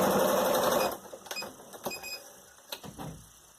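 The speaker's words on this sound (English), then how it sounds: "run along with my sewing machine, run along the whole edge" A home sewing machine stitches a seam joining sections of a foundation paper-pieced quilt pattern, whirring loudly and steadily close by for about a second, then giving way to quieter intermittent clicks and handling sounds.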